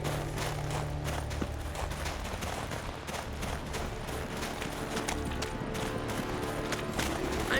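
Horse hooves clip-clop steadily in The Witcher 3: Wild Hunt, an even trotting rhythm that runs the whole time under a low rumbling game soundscape.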